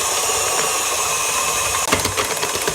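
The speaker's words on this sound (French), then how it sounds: "Quand le beurre est correctement incorporé à la pâte, on peut mettre la vitesse maximum sur le batteur." Stand mixer beating brioche dough with butter at maximum speed, a dense steady whirring motor hum with a brief knock near the end, close and loud, no speech.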